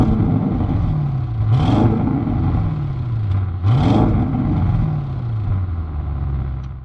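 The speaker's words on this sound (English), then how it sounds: "And the bottom you would see two big oval shaped exhaust tips. My god, they sound absolutely incredible." A 2021 Audi RS7 Sportback's engine is revved twice through its two large oval exhaust tips, each blip rising sharply and falling back to a steady, rumbling idle, loud and close with no talking.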